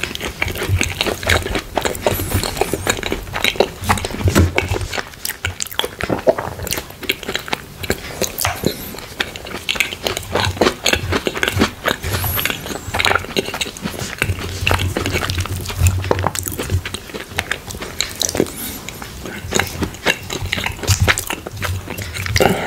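Apple pie being eaten up close: wet bites and steady chewing with soft squishy smacks, repeating in an irregular rhythm throughout at a moderate, intimate level.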